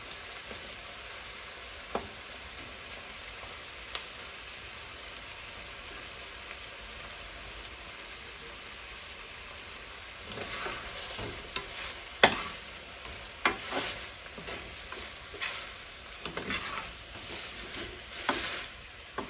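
Quiet frying crackles at first, then a spatula repeatedly scrapes and tosses fermented chicken drumsticks in a sizzling wok, the strokes irregular and close.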